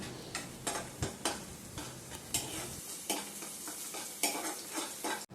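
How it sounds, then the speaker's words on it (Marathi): Onion and garlic sautéing in a pan in a home kitchen, a soft continuous sizzle with regular spatula scrapes and clinks up close, and no voices. "कांदा चांगला परतून घेतला, त्याच्यानंतर त्याच्यामध्ये लसूण घातला."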